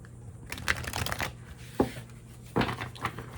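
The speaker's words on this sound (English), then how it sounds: "I'll shuffle one more time." Tarot cards being shuffled by hand, several brisk riffling bursts separated by short pauses, close and fairly loud with no talking.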